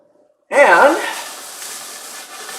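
Breakfast potatoes hit a hot pan with a sudden loud hiss that settles into a steady, softer sizzle, close and alone after a quiet start.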